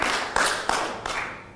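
Studio audience clapping hands in a few quick bursts, loud and close, with short pauses between each burst.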